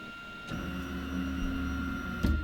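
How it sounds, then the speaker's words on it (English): A 3D printer at a makerspace resets itself with a steady mechanical motor hum, punctuated by two sharp clicks near the start and end. "And the printer is going to set back itself."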